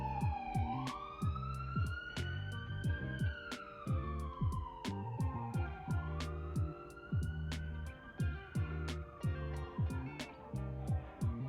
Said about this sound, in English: if y'all hear the siren outside